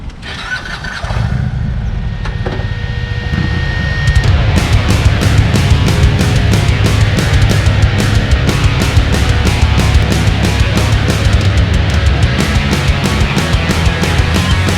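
An Indian Challenger motorcycle on a test ride starts up about a second in, then runs loud and steady, its engine swelling fuller around four seconds and droning on without any talk.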